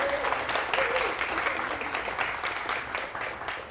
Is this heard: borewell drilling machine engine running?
no